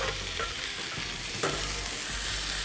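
Bear sausage frying on a hot Carolina Cooker griddle, a loud, dense crackling sizzle close up with a few scraping stirs, no voices.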